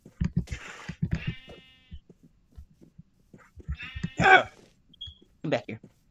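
Minecraft sheep bleat in wavering, nasal cries, two clear bleats among bursts of someone talking, coughing and exclaiming nearby.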